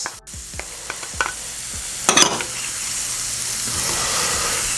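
Ginger sizzles in butter in a pan with shallots, first broken by several distinct stirring clatters and a sharp burst, then settling into a steady, close frying hiss.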